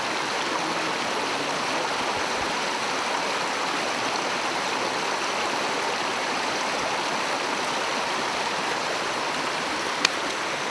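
A river in the Poreče region flows and rushes steadily near the listener, a constant close wash of water noise with no breaks and no voices.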